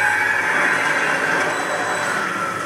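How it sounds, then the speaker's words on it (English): Train moving in the sci-fi horror game Dead Space 2, a loud steady rolling rumble with a sustained metallic squeal over it and no speech. "Yep, you're getting on the train now."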